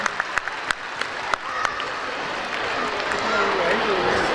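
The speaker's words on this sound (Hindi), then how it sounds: "भरपूर ताली होनी चाहिए बेटा सबके लिए" Audience applause at a school convention in a convention center in Islamabad, with scattered sharp claps at first building into steady, dense clapping that fills the hall.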